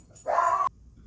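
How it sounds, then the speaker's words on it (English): A dog gives a single close bark indoors, a short tonal yelp standing out briefly against a quiet room. "Sorry, that was my dogs."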